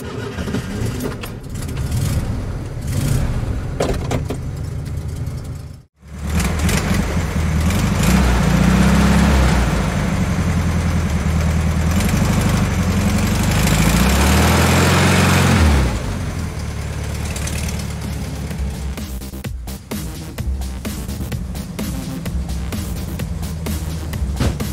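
A 1973 VW Beetle engine catches after a short silence and runs at a loud, steady idle for about ten seconds, then settles into quieter, uneven running and handling noises close by.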